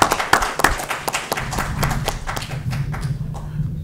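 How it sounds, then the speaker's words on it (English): Scattered hands clap at a climate action forum, a few sharp, distinct claps near the front over a thin ripple of audience applause that thins out toward the end. "Give her a round of applause."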